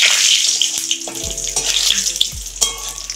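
Torn dried red chillies and cumin seeds hit hot oil for a vegetarian banana-flower mocha ghonto, giving a loud, steady crackling sizzle with sharp pops and some clattering from the pan.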